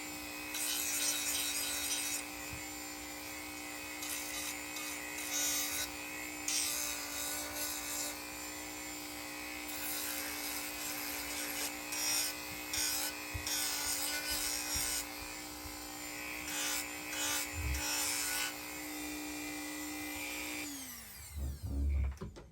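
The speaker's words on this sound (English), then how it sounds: "just any of the hard corners or edges of the holster, go ahead and give them a decent bit of a round off before we take it over to the buff" A power tool grinds steadily on a leather holster, rounding off its hard corners and edges, with a continuous whine and shifting abrasive rasp that runs the whole time before winding down at the end.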